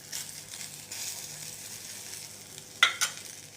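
Okra frying in a little oil over a tempering of mustard seeds and urad dal, a steady soft sizzle throughout with a couple of sharper crackling pops near the end, no talking.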